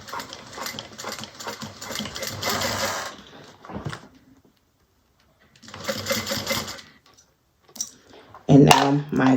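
A sewing machine stitches a bag in two fast, loud whirring runs, separated by a quiet pause and followed by a few clicks, while a person talks.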